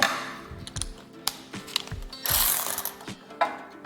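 A ratchet clicks in quick, uneven strokes while removing a 10 mm bolt from the wheel bearing hub of a 2005-or-later Toyota Tacoma, with sharp close metallic ticks and a few heavier knocks between pulls.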